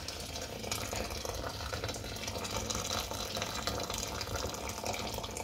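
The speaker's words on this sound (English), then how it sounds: "we're going to pour the water into our soup" Hot water pours steadily into a pot of Portuguese turnip soup, soces nabos, a continuous splashing gush from start to finish with no talking.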